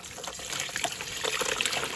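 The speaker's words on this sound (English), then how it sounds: "we're going to go ahead and pour our brine on in this turkey." Cooled lemon pepper brine pours over a whole turkey in a container, a steady close splashing trickle with bright liquid gurgles throughout, no voices.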